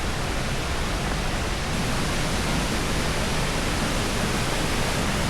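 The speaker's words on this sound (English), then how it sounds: "I think this is the biggest waterfall I've ever seen in my entire life." The biggest waterfall on a solo hiking and camping trip in central Arkansas roars as a loud, steady, unbroken wash of noise that fills the whole span with no break or change.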